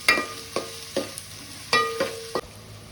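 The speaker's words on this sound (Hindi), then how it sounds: "अभी इसको आपको भूनना है 5 से 10 मिनट तक, जब तक ऑनियन ब्राउन ना हो जाए।" Sharp scraping stirs of a spatula in a pan of frying onions, about six quick strokes over a soft sizzle, close and fairly quiet.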